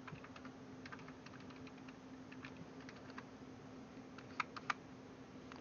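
Keys being pressed on a Logitech G910 Orion Spark mechanical keyboard, a steady run of light clicks with a few sharper, louder taps near the end, close by and with no talk.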